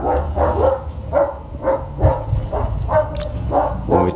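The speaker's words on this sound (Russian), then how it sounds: "там собака такая, овчарка лает" A German shepherd barks repeatedly outdoors, a steady series of loud, evenly spaced woofs, with a slight whimpering tone between some barks.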